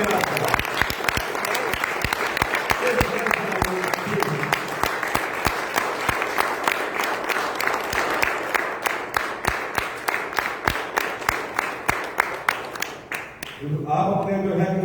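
An audience applauding to welcome a speaker on stage at an Artlife event, with dense clapping that thins into distinct rhythmic claps near the end before a voice speaks.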